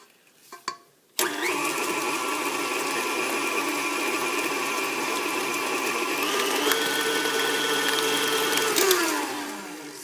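An electric mixer churns chocolate chip cookie dough with a loud, close, steady motor whine after a few clatters at the start, then winds down near the end.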